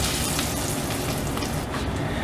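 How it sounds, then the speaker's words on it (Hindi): Washed, still-wet mint leaves hit hot oil in a pot for plain biryani rice, giving a loud, steady crackling sizzle with no pauses throughout. "पुदीना वॉश किया हुआ था, इस पत्तों के साथ थोड़ा पानी था, इसलिए इसने आवाज़ दी है।"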